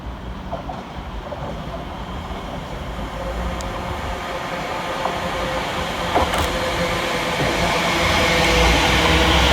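A Greater Anglia passenger train pulls into a station on the Great Eastern Main Line with a steady rumbling roar that grows gradually louder, broken by a few faint squeals and knocks.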